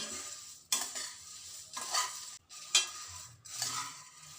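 Spiced puffed rice tossed and stirred in a pan over low heat, a dry rustling scrape with bursts of crackling sizzle repeating every second or so, close and fairly loud, no voices.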